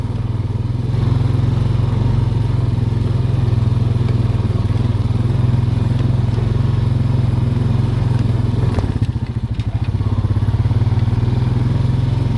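A Honda Rancher 420 ATV engine runs steadily and loudly close by, a deep continuous drone with a brief dip and rattle near the end, and no talk over it.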